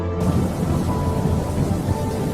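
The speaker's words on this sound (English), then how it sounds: "a violent storm sank his ship" A violent storm at sea with thunder, a dense, steady roar of heavy rain and low rumbling that holds loud and unbroken for the whole short stretch, with no voices.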